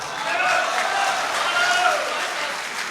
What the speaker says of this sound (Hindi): ताली मत बजाइए।